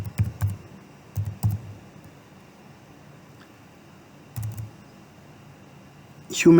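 Short bursts of typing on a computer keyboard while entering a search, a few clustered clacks with long quiet gaps between them, close and clear.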